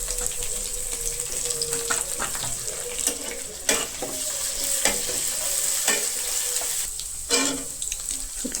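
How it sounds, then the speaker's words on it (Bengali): Dried fish (shutki) frying in a pan with onion and chilli, a loud continuous sizzle broken by repeated stirring scrapes and clatters, with no talk. "এখন আমি শুটকিটা ভেজে নিব।"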